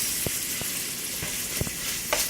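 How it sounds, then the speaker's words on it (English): Pancetta frying in a pot for minestrone soup makes a faint, even sizzle, broken by a few soft clicks as it is stirred. "So we're just going to give this a stir."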